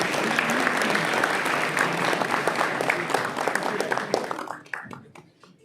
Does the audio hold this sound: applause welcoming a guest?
yes